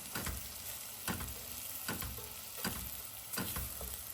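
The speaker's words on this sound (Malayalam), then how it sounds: "ബാക്കിയുള്ള സവാള നമുക്ക് വാറ്റി തുടങ്ങാം" Onions sautéing in ghee in a pan for mutton dum biryani, a steady close sizzle broken by regular scraping stir strokes about once a second, with no voices.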